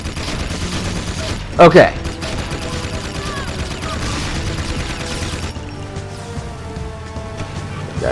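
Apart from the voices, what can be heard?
gunfire in the video game Jak II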